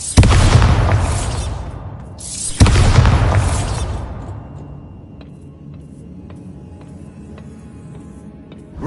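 Two heavy booming blasts from the Bombarda spell in Hogwarts Legacy, each a sharp loud burst about two and a half seconds apart, followed by a long decaying rumble and faint ticking debris.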